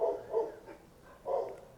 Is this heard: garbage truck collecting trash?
no